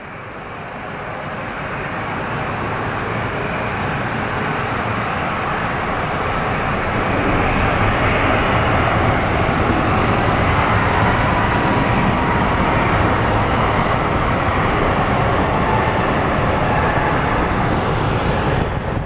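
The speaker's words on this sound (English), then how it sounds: "American A321. That'll be going to Dallas." An American Airlines Airbus A321 jet passes during plane spotting in Seattle, its broad engine roar building gradually and then holding loud and steady for the rest of the clip.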